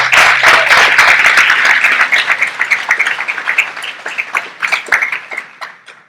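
A church congregation applauding during a Spanish-language service: loud, dense clapping from many people close by that gradually thins into scattered, uneven claps as it fades toward the end.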